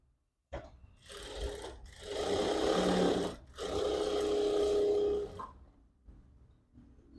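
A power sewing machine runs fast in bursts, a steady loud whirring hum that starts, pauses briefly, surges again for a few seconds and then winds down to a quieter idle, with no talking.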